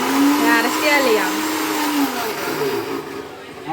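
A mixer grinder whirs loudly and steadily, its motor pitch wavering slightly as it runs.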